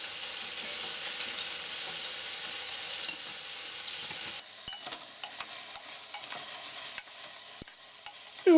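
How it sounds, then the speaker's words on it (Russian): Pork shoulder frying with onion in a pan over a medium burner on high heat: a soft sizzle under stirring scrapes, then quieter frying punctuated by sharp utensil taps and clicks. "И вот так обжариваю теперь с луком, пока лук сначала станет прозрачным"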